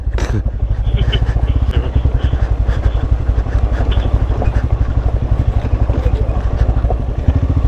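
Off-road motorcycles riding a dense forest trail on the Samse–Didupe route, a loud close engine thumping in a rapid steady pulse, throttle holding fairly constant with some clatter over the rough ground.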